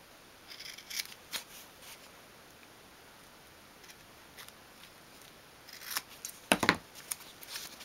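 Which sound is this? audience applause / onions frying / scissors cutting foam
scissors cutting foam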